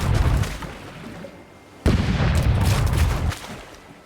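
Ship cannons in the pirate game Rogue Waters fire two heavy booming blasts, each followed by a rumbling decay, loud and close.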